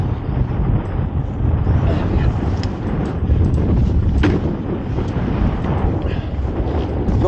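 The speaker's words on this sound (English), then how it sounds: "That wind, eh?" Strong wind buffets the microphone on a boat, a heavy low rumble roaring steadily throughout, with faint knocks and movement underneath.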